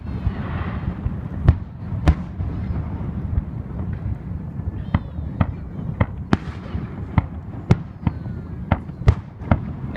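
Willow fireworks bursting at an Independence Day display, a steady series of sharp, loud cracks and booms every second or so over a constant low rumble and faint background noise.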